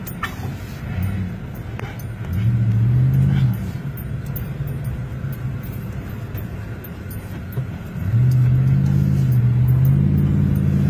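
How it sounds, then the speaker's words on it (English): A car speeds along a road through a burning wildfire area, its engine rumbling steadily and surging twice as it accelerates hard, with a low, close drone throughout. "Hit the gas."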